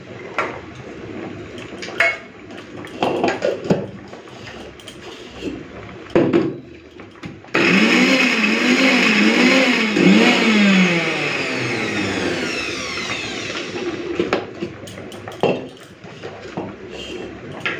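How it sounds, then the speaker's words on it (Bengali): A blender whirs for several seconds grinding ginger and garlic into a paste, loud and steady with a wavering motor pitch, set between clatters of utensils and kitchen handling before and after. "এরপরে আমি আদা রসুনটাকে বেটে নেব।"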